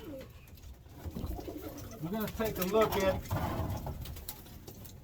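Birmingham Roller pigeons cooing in a loft, soft repeated coos close by that run under someone talking throughout.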